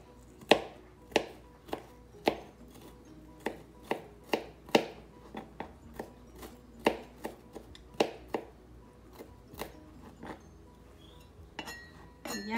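Onion being finely chopped with a knife on a cutting board, a series of sharp, distinct knife strikes at an uneven, unhurried rhythm, close and clear with no talking.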